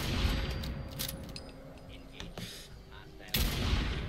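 Gunfire in Fallout 4 comes as a few sharp shots, one early and a louder burst near the end, over quiet game ambience with no talk.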